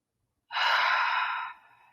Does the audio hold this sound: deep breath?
yes